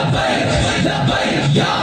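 A large crowd at an annual Urs gathering chanting the religious slogan Labbaik Ya Rasool Allah, loud massed voices rising together in a rhythmic roar.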